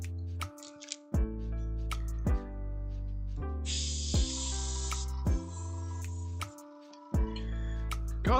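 A partly blocked spray can of varnish sputters in a string of short hissing bursts and clicks, with irregular gaps between them, alongside a sustained tone in the background.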